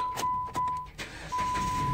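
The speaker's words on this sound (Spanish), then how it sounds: "vamos a apagar el carro y lo vamos a prender de nuevo" A Dodge Avenger engine is cranked and started after an alternator change, a brief starter whir that catches into a steady idle close by, with a constant electronic tone throughout.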